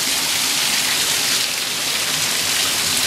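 Steady rain pours outdoors in Lubbock, a dense, even hiss of drops striking surfaces close by, continuous for the whole stretch with no voices.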